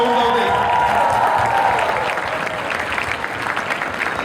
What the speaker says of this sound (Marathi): त्यांच्यासाठी टाळ्या उडवते.